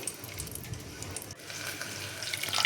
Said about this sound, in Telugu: ఇప్పుడైతే గ్లాసున్నర వాటర్ పోసాను పప్పులో